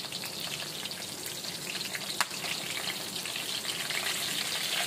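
Garlic and curry leaves fry in a pan, giving a steady, even sizzle and crackle that runs without a break and without any talk.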